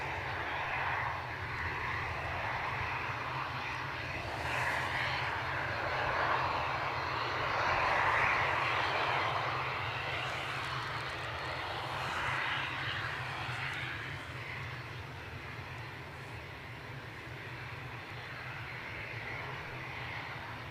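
An Edelweiss airliner at Edinburgh Airport gives a faint, distant engine roar that swells slightly and fades, steady against wind noise.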